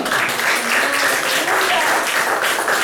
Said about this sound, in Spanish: Denle un aplauso al Señor, amén.